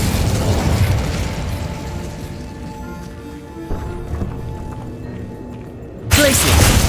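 In Hogwarts Legacy, the Incendio fire spell is cast amid game effects and magical hum, ending in a sudden loud fiery burst that roars on to the end.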